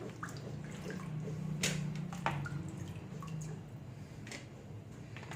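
Water drips and trickles steadily from washed cucumbers set in a strainer, with a few sharper splashes, a low hum running underneath throughout.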